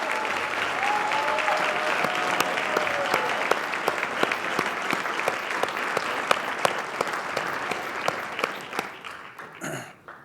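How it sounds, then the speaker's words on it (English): Sustained audience applause at a Martin Luther King Jr. Day celebration, steady and full-bodied with a few sharp individual claps standing out, tapering near the end. "A round of applause for Dr."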